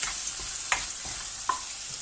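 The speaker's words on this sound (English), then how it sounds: "And lastly, you throw in your rice." Rice tossed into a hot pan of sizzling lemon rice and stirred, with a steady frying hiss broken by a few soft scraping stir strokes close by.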